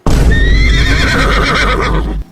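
A loud, close horse whinny used as a comedy sound effect, a single long rising and wavering neigh that cuts off abruptly, heard alone without talk.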